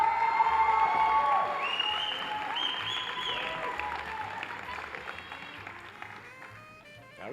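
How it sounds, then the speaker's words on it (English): At a medical school white coat ceremony, an audience applauds and cheers, with a thick bed of clapping plus some whoops and whistles up front, gradually fading toward the end. "That was a good cheering section."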